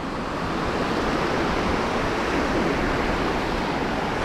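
Ocean waves break on a beach in a steady, loud wash of surf that holds the same hiss and rumble throughout, with no voices.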